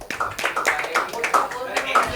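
Students in a maths class clap for a classmate, a light, uneven patter of several hands close by over about two seconds, with a voice speaking over the claps.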